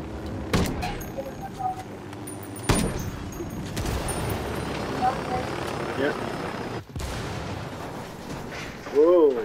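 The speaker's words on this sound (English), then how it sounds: "Incoming enemy helicopter." A helicopter in a video game drones steadily while scattered gunshots and heavy booms crack intermittently, with voices talking over the battle noise.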